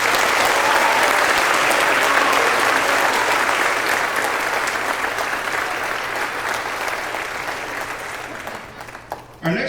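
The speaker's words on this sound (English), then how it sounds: "Let's give all these students a big round of applause." An audience at a school spring concert applauds in a loud, dense wash that holds steady for most of the stretch, then thins and fades near the end.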